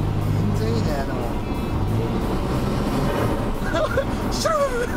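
Nissan Cima Y33, a low-slung Japanese VIP-style luxury sedan, heard from inside while driving, with a steady low engine and road drone running throughout as people talk over it.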